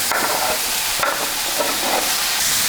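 Zucchini, bell peppers and onions stir-fry in a hot pan alongside ground beef, a loud continuous sizzle with scraping and tossing sounds from stirring, no one talking.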